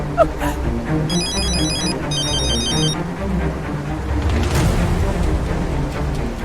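A telephone bell rings in two repeated bursts, loud and close, over a low background hum in a domestic drama scene.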